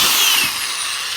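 A power drill boring a 3/8 inch hole into the back of a wooden birdhouse, a loud close whine that holds steady and then eases slightly as the bit cuts through, with no talking.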